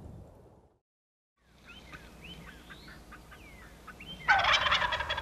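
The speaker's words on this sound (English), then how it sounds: "You hear that gobble" A wild turkey gobbles outdoors in a quick, rattling burst at moderate distance after a brief silence. A sudden loud, broad rush of noise follows near the end.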